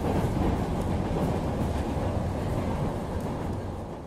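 Berlin U-Bahn U8 subway train running, a steady loud rumbling roar of wheels and carriage with faint rhythmic clatter, continuous and close, with no voices.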